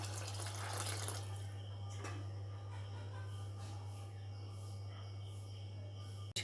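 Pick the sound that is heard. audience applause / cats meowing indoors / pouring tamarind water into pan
pouring tamarind water into pan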